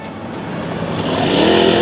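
A portable 4-stroke water pump engine with a 1.5-inch outlet catches and runs. Its close, steady motor drone builds gradually in loudness and pitch as it picks up speed.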